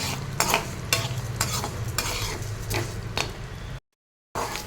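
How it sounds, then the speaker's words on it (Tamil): Urad dal fries in a pan for a homestyle chutney, with a soft steady sizzle broken by periodic scraping stirs, then a brief silence before the stirring resumes. "உளுந்து கொஞ்சம் கொஞ்சம் ஃப்ரை ஆகட்டும், கொஞ்சம் கலர் சேஞ்ச் ஆகட்டும்"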